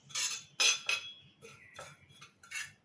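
Poppy seeds are dry roasted in a pan, with a utensil clinking and scraping against the metal in short, uneven bursts, close and moderately loud, without any talking.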